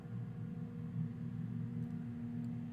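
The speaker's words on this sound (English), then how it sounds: "That is a loud car outside." Low, steady rumble of a loud car passing outside, heard faintly through walls as a continuous engine drone with no voices.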